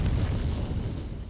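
A boss blows up in the video game Jotun, a broad rumbling explosion filling the clip at full strength and tailing off slightly toward the end, with no talk over it.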